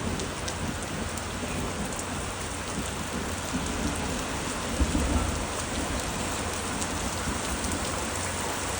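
Heavy rain pours steadily outdoors, a dense close hiss with a low thunder rumble swelling briefly midway; no voices.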